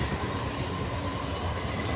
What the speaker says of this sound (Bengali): ট্রেনটা এখনই চলে আসছে